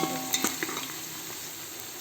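Vegetables for biryani are stirred and fried in a pan until browned. A close, continuous sizzle runs throughout, with a few utensil knocks and scrapes near the start.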